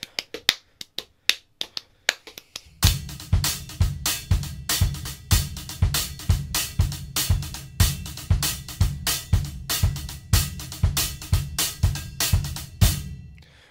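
A drum kit played alone with sticks, a sparse five-note sticking pattern with gaps laid over a steady quarter-note bass drum, giving a tight, repeating four-over-five polyrhythm of sharp, close, evenly loud hits after a brief quieter intro.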